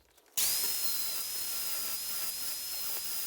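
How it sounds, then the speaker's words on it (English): A 1/8 inch cutoff wheel on a power tool grinds into a steel VW ball joint adjustable beam, starting abruptly with a steady high whine that holds loud and close throughout. "very carefully surgically remove that with an 1/8 inch cutoff wheel"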